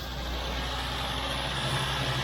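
A 1975 Toyota Carina 1.6 TA12, long unused, runs steadily after a restart with a dirty filter, giving a loud, continuous low engine rumble with no talk over it.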